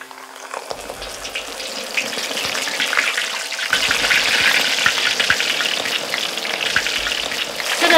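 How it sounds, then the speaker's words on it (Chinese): Fish goes into hot oil and fries with a bright, crackling sizzle that swells and stays loud and close throughout, with no talking. "我们现在可以下鱼了"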